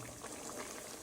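Nigerian meat pie filling of meat with pepper and salt bubbles in a pot, a soft, steady simmering burble heard briefly and alone.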